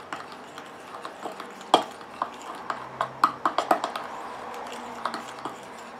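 A spoon stirs a pink clay and carrot face mask mixture in a small bowl, with light scraping and soft irregular clicks against the sides, a few brisker taps in the middle, fairly quiet and close.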